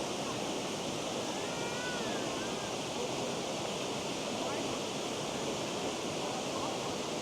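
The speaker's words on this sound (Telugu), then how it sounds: "చూడండి ఈ వాటర్ ఫాల్స్" Black Forest waterfalls in Germany pour over stepped rocks in a dense, constant roar of rushing water, loud and near, with no pause across the span.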